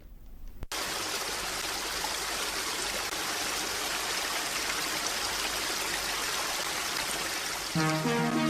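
A river stream flowing, a steady close rush of water that starts abruptly after a brief silence and runs continuously, with a faint tonal sound entering at the end.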